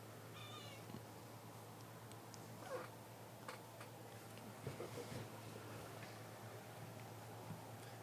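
A house cat meows once, faintly and briefly, near the start. The rest is a quiet room with a steady low hum and a few soft bumps.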